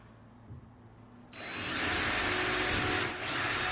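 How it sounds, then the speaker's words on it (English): Power drill boring holes into wooden kitchen cabinet doors for hardware, a loud steady whir that starts abruptly and runs continuously, with a brief dip near the end. "I'm going to go back through and line it up right here on that mark, and then just drill it out"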